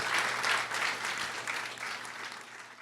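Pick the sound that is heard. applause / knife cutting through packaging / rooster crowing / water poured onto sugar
applause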